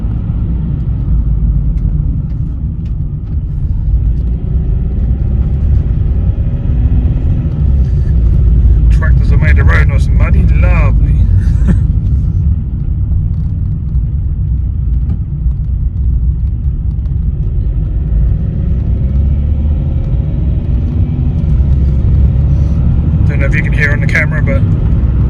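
A Vauxhall Meriva B on a short test drive after a front end rebuild gives a steady, loud low road rumble and tyre roar throughout, with a couple of faint higher rattles midway and near the end.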